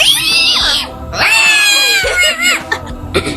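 A person imitates a cat with three drawn-out, wailing meows in quick succession, loud and close, during an animal noise contest.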